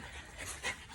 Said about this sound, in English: These guys are the best dogs in the world.